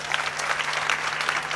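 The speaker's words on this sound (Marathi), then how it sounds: "या सगळ्या माझ्या दादांसाठी जरा एकदा जोरात टाळ्या." An audience at a Marathi kirtan applauds the accompanying musicians, including a pakhawaj player; a short, moderately loud burst of clapping with individual claps audible over a low steady hum.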